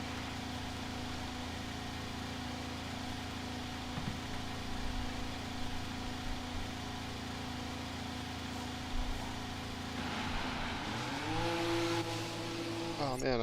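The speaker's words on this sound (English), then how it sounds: "I'm going to drive out so I can get a feel for the car." A Formula 1 car in the F1 22 video game drives out of the pit, its engine holding a steady mid-pitched drone before revving and rising in pitch near the end; no voices.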